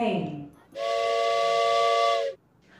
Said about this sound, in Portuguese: Vamos ouvir agora o som do apito de um trem.